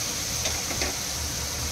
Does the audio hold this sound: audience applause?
no